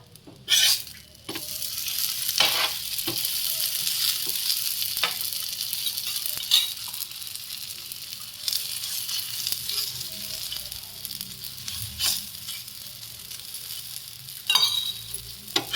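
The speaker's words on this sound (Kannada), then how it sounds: "ಈಗ ನೀವು ತುಪ್ಪನೇ ಹಾಕಿ ಸುಡ್ಬೋದು ಅದು ಚೆನ್ನಾಗಿರುತ್ತೆ" Paratha flatbread fries in a pan with ghee or oil, giving off a steady soft sizzle for the whole stretch. Louder scrapes and taps of stirring or turning it come now and then.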